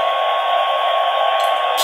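A vacuum cleaner plays through a baby-monitor camera speaker as a continuous, thin, loud whooshing drone lasting under two seconds, with no speech over it.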